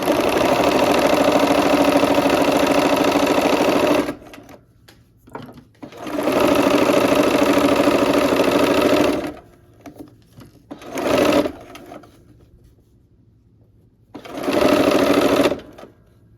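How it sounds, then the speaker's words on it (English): A sewing machine stitches a quilt block in loud, close bursts of rapid mechanical whirring, several seconds each, separated by quiet pauses with faint handling noises. "here we are at the machine. Let's go ahead and sew"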